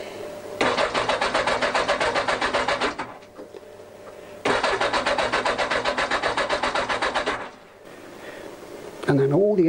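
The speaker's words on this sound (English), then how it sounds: "turn the engine over." A Yamaha XJ900S motorcycle engine cranking over on the starter with the HT leads off, two long bursts of rapid rhythmic churning separated by a pause, close and loud with no talking.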